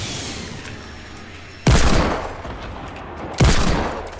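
Sniper rifle fire in the battle royale game Fortnite, with two loud, sharp reports about two seconds apart, each ringing out in a long decaying tail over a steady low background.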